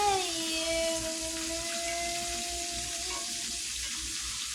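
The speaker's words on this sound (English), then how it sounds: "Now we letting our chicken cook" Fried chicken sizzles in a pan of hot oil, with a steady, close hiss and crackle throughout and a faint tonal whine in the background.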